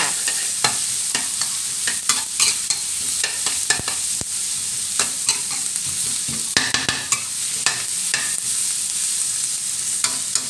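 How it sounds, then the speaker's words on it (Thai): Onion and carrot are stir-fried in a pan, with a constant sizzle broken by frequent sharp spatula scrapes and clanks against the pan, close and busy throughout. "ใส่หอมใหญ่กับแครอทลงไปผัดนะคะ"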